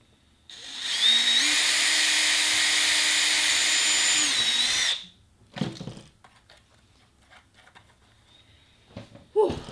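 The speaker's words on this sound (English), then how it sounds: "the drilling is done." A power drill whines loudly and continuously for about four seconds, then stops, followed by scattered clicks and handling sounds.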